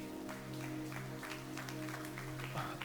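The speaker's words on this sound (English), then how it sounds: "I really appreciate you clapping." A church audience claps in loose scattered bursts over sustained music, the applause moderately loud and uneven during a service.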